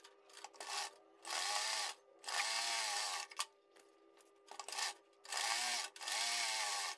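Close sewing machine stitching two matching fabric pieces together for a glass neck blouse design, running in steady whirring bursts of about a second each separated by short pauses and clicks, quiet room with no talking.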